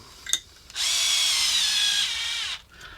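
A power drill with a 3.3 mm bit drills in one steady, close, high whine lasting about two seconds, starting and stopping abruptly, with no talking.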